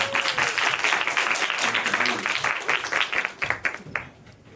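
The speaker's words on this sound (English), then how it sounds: "A big round of applause for Steve Yedlin." A Q&A audience breaks into a loud round of applause for cinematographer Steve Yedlin, dense clapping that holds strong and then thins out into a few last claps as it fades.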